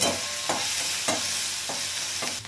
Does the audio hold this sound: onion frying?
yes